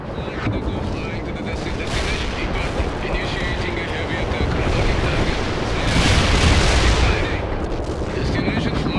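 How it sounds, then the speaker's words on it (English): Artillery fire in the World in Conflict combat video game, a dense, continuous roar of booming blasts that swells and rolls without clear breaks. "Launching artillery missile."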